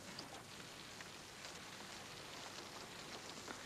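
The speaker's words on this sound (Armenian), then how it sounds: "Վերջապես Բահաղը մեզ անձրև պարգևեց" Steady rain falls throughout, a dense even hiss of drops on surfaces with no talk over it.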